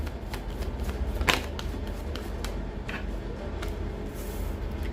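Tarot cards being shuffled by hand at close range, a steady papery riffle and slide with a sharper snap of cards near the middle, no talk over it.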